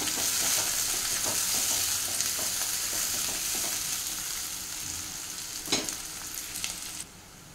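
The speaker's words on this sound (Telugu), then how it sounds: "ఇప్పుడు 2 మీడియం సైజ్ ఆనియన్ అండి వేసేసుకున్నాను. ఇక్కడ మిక్స్ చేద్దాం." Two medium-sized onions sizzle steadily in hot oil in a pan for palak curry, with intermittent spoon scraping and stirring over the continuous loud frying hiss.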